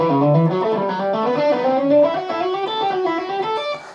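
Distorted electric guitar plays a continuous run of fast, even notes, a driving stream of constant sixteenths with no pauses.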